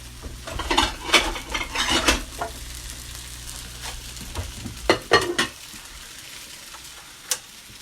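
Dungeness crab stir-fried in a hot pan on a stove, with steady close sizzling and repeated scraping, clattering stirring strokes in bursts that thin out toward the end; no one speaks.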